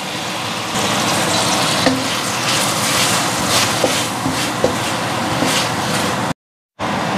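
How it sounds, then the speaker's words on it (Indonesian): A steady, dense sizzle of spice paste frying in a pan, with faint clicks of stirring, cutting off abruptly near the end. "bumbu yang telah ditumis tadi ditumis kembali"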